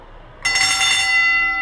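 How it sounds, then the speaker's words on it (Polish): Electric school bell rung inside a morning PE fitness club, a sudden loud metallic ringing that starts abruptly and holds steady to the end, alone with no talk. "Uderzamy tutaj, jest sygnał. Czyli dzwonek, możemy to włączyć?"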